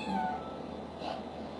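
A pet house cat gives a single short meow near the start, close and fairly clear, followed by quieter indoor room noise.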